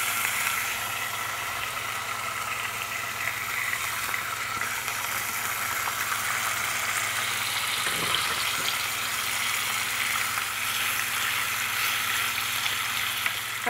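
Canadian bacon pieces frying in a pan for a quiche, giving a steady, even sizzle and crackle throughout with a constant low hum beneath and no talking.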